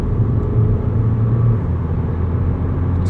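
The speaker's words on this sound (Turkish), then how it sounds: "Şöyle bir bakalım bir dip gaz yapalım şöyle." A Renault Talisman 1.6 dCi 160 hp with EDC gearbox pulls hard at full throttle, a loud steady engine rumble and droning whir holding throughout.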